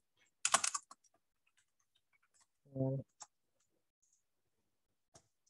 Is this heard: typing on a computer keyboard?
yes